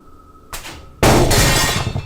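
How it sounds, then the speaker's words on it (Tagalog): A small glass case falls over and strikes a surface with a sudden loud crash that rings on, following a softer knock a moment earlier, with no talking. "bigla na lamang nahulog ang maliit na glass case na ito nang wala namang gumagalaw dito"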